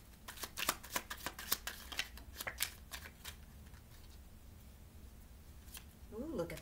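Tarot cards shuffled by hand on a bed, a run of quick, close riffling snaps for about three seconds, then quieter handling with a faint voice near the end.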